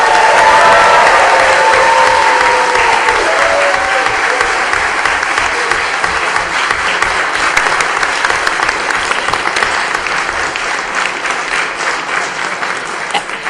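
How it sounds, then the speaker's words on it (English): A room full of people at a school committee meeting applauds the students' hard work, with sustained dense clapping that stays loud and steady throughout, fading slightly toward the end. "join me in a round of applause for all of our students' hard work"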